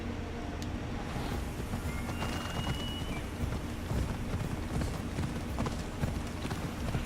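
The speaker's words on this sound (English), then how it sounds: "bouncing on the back of a horse like this does not look pleasurable" A horse in Assassin's Creed Odyssey gallops with rapid, continuous clip-clop hoofbeats, moderately loud over a busy background.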